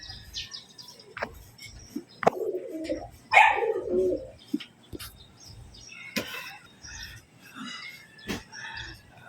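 Pigeons coo and small birds chirp nearby, with scattered soft knocks and taps around them.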